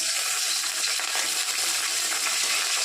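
Mustard seeds, dry chillies and curry leaves spluttering in hot oil for a Bengali katla fish curry: a dense, steady crackling sizzle that fills the whole stretch evenly and closely, with no voice over it.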